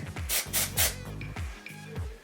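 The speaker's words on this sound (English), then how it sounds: "So I'm going to spray it all over the top first" Dry shampoo sprayed onto hair during a top knot styling session: three quick hissing bursts in a row near the mic, then quieter handling sounds.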